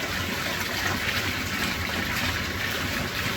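Steady, dense rush of water pouring and trickling nonstop in an aquarium tank during a winter water change, close and fairly loud, with no voices.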